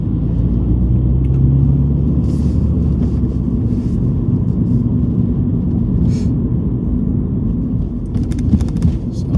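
Mini Cooper John Cooper Works driving over a bumpy road, a steady loud cabin rumble of engine and tyres with occasional knocks and thumps from the suspension, continuous throughout.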